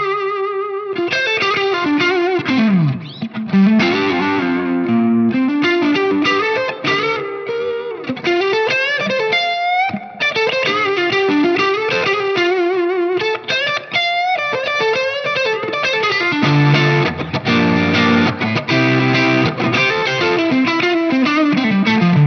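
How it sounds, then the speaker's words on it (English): Electric guitar runs through a Bonsai overdrive gain pedal, playing a lively, bending lead line with smooth, slightly distorted sustain, loud and continuous for over twenty seconds. "if I put on the gain pedal now, you'll hear just how much smoother it is"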